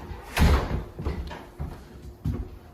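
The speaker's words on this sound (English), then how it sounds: "You hear that door, right?" A door shifts and bangs in a building during a night-time ghost hunt, with a louder thud followed by a few softer knocks and scrapes spaced over a couple of seconds, fairly close and without speech.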